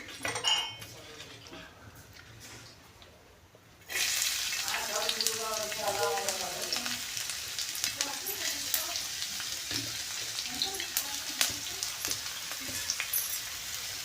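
Onions dropped into hot oil on a tawa, a quiet pause giving way to a sudden steady sizzle and crackle close by, with occasional utensil clinks and faint background voices.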